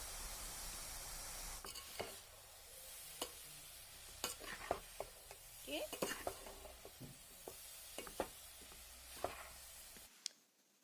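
Semolina being fried in ghee in a pan, a quiet sizzle under repeated sharp scrapes and taps of a spatula stirring against the pan, close and uneven in rhythm, ending abruptly.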